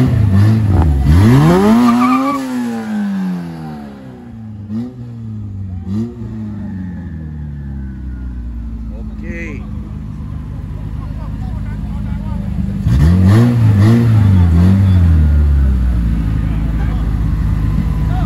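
Drag race cars at a race track revving loudly in repeated rising and falling sweeps, close by, with a quieter stretch in the middle before another strong burst of revving near the end; people talk in the background.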